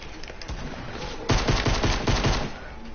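A pistol fires in an online shooter video game, a rapid run of close, loud gunshots in quick succession after a stretch of quieter background noise.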